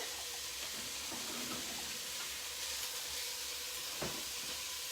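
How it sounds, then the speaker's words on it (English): A soft, steady sizzle of chopped bacon frying in an enameled cast iron Dutch oven, a constant hiss with faint crackles, no voices. "make sure it's all sizzling good stuff right here"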